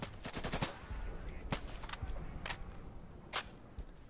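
Gunfire in the video game Insurgency on the District map, a rapid burst of automatic shots at the start followed by scattered single cracks and short bursts, some close and loud, others further off.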